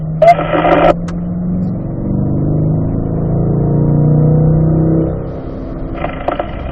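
A race car accelerating out of a corner on a racetrack: a close engine note climbing steadily through the revs and holding high, with short bursts of other noise at the start and end.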